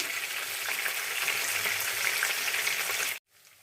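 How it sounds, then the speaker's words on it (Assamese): Fish sizzles and spatters in hot oil in a pan, a dense, steady frying hiss that carries on loudly before cutting off abruptly near the end. "এয়া আমাৰ মাছ ফ্ৰাই হৈ গৈছে।"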